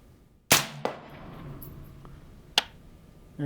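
A rifle shot fired with an ATN X Sight HD scope rings out as a sharp, close crack, followed moments later by a metallic clang of the bullet striking a steel target, then a second fainter impact and another sharp crack near the end.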